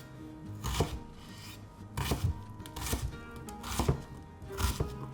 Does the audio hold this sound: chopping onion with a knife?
yes